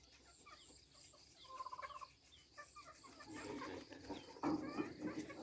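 Chickens clucking and calling at a moderate distance, with the birds growing louder and busier toward the end amid faint background noise.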